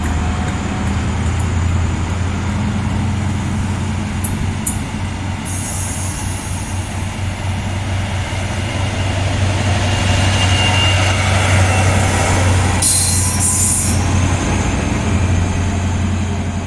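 A departing HST diesel train rumbles steadily with a deep engine drone and rolling wheel noise, brief high squeals of wheels on rails cutting in partway through.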